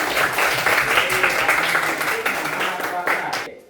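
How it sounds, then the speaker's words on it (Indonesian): Classroom pupils clapping for a classmate named Kuming after he answers correctly; a brisk round of applause with a voice faintly over it, fading out at the end. "Oke, tepuk tangan dulu untuk Kuming"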